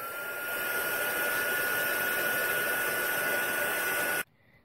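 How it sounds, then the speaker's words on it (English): A handheld heat tool drying paint on plastic blows with a loud, steady whooshing hiss and a high whine, running continuously for about four seconds before cutting off abruptly. "I want to give it a little shot of my heat tool just to make sure it really dries on there well."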